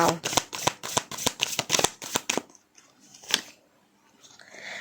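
Tarot cards are shuffled in a quick, crisp run of close riffling slaps, then the flurry stops and a few cards drop with a soft slap in a quieter room.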